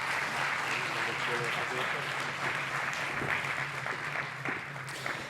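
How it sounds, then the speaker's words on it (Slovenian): Sustained applause from a conference audience after a long panel discussion on public administration, a dense continuous wash of clapping filling the room at steady loudness throughout. "še en velik in glasen aplavz vsem sodelujočim"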